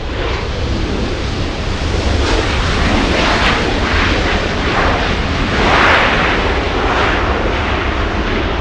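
A large jet airliner at LAX roars steadily for the whole stretch, with a broad, loud engine rumble that swells a little near the end, and no voices.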